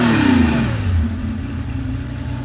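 An air-cooled Porsche 911 engine revs loudly up close, a rising and falling mechanical roar that fills the whole short stretch with no talking.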